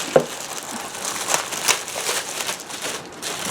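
Plastic bags crinkle and rustle as a Ninja Dual Brew coffee maker pot is unwrapped from cardboard packing, with irregular close crackles and a sharp snap near the start.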